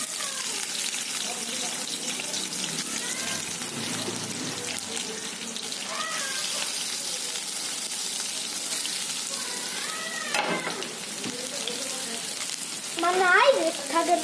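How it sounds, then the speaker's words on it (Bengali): Potatoes dropped into hot oil in a home kitchen give a steady, close sizzle and hiss that runs throughout, with occasional scraping and stirring noises and a brief louder spatter near the end. "এবার তেল গরম হয়ে গিয়েছে, এবারে আলু ভাজিগুলো দিয়ে দেব।"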